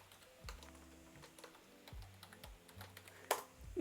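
A password is typed on a computer keyboard: a quick run of light, close key clicks at an uneven rhythm, quiet in a still room.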